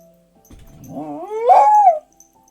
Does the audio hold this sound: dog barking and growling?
yes